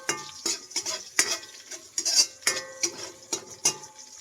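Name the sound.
stirring garlic and ginger frying in pan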